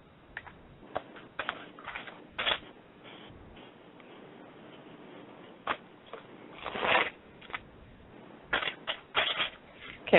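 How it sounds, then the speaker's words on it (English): Tarot cards being shuffled by hand in a quiet room, a series of soft papery riffles and flicks arriving in irregular bursts, close and fairly faint, with no talking. "I'm going to shuffle the cards up."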